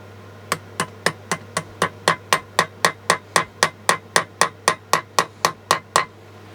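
Hammer blows during parking brake service on a Fiat 7090DT tractor: about twenty loud, sharp metallic strikes in an even, steady rhythm, close and alone with no talk.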